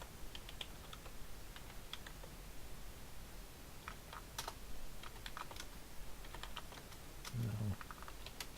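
Quiet keystrokes on a computer keyboard while configuring VLANs and trunks in a networking practice lab, irregular bursts of close, soft clicks with short pauses and a faint low thump near the end.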